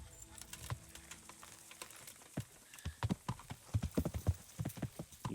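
Horse hooves clip-clop in the medieval game Kingdom Come: Deliverance, an irregular run of fairly close hoof strikes that grows busier and louder toward the end.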